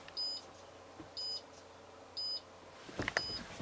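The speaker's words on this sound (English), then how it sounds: "I'm in the attic, so you can hear the alarm." Arduino Nano / Pi Pico garage burglar alarm with PIR sensor and magnetic door switch beeping while arming: three evenly spaced short electronic beeps, faint and distant as if from another room, followed by a brief rustle.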